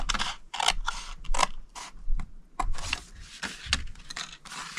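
Close, crisp snips and rustling of scissors cutting cardstock along a score line, in short irregular bursts with handling noise between.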